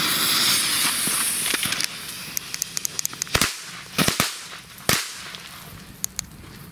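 Several sharp bangs from a New Year's Eve firecracker set, lighting poorly, go off irregularly, some close together, with crackling hiss between them outdoors at a moderate distance.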